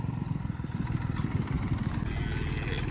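A tractor engine labours steadily at close range, a low pulsing rumble as the tractor sits stuck and slipping in mud, with no talk over it.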